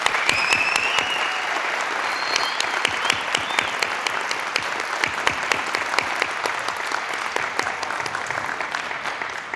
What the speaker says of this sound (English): let's give a big round of applause to the 2020 Mustang Legend inductees